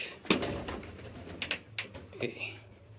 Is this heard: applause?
no